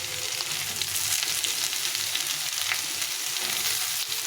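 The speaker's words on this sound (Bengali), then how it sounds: "বেগুনের পটলটা একটু ভেজে ভেজে নেব" Eggplant and pointed gourd fry in a pan with a dense, continuous close sizzle and occasional light stirring taps, no one speaking.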